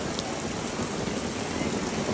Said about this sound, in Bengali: এত বৃষ্টির মধ্যেও সবাই স্কুলে আসতেছে